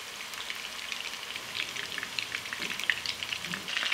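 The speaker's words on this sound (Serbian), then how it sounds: "I ćuftice sad ovako pržimo sa obe strane po 3-4 minuta." Meatballs (ćuftice) sizzle steadily in a frying pan, a continuous crackling fry with scattered pops throughout, close and fairly quiet, with no talking.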